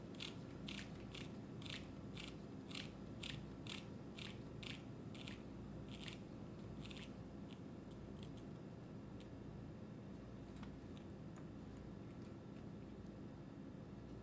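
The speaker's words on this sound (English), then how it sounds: "I go back to my 1 mil pipette, and now I readjust it from 900 to 300 microliters." Volume dial on a 1 ml lab pipette being turned, a run of faint, quick ratcheting clicks that thin out and stop, over a steady room hum.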